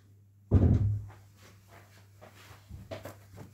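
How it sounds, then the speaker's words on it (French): A door swings shut indoors with a single firm thud, followed by faint soft shuffling and small knocks in a quiet room. "je vais fermer la porte parce que je l'entends arriver"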